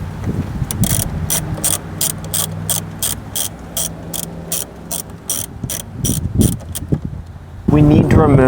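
A hand ratchet loosening 10mm bolts inside the dash of a Lexus LX570, a fast train of sharp, close clicks for several seconds, followed by a short burst of faster ratcheting, with someone talking underneath.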